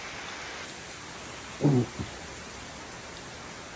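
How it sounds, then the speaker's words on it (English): Heavy rain pours steadily onto a swimming pool at a Sri Lankan guesthouse, a dense constant hiss, briefly interrupted by a short human exclamation. "Hey, heavy rain."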